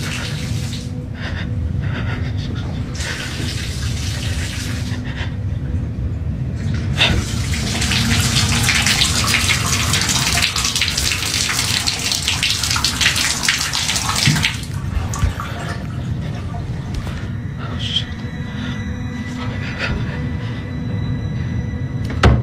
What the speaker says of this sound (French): Il y a un robinet qui s'ouvre et qui se ferme.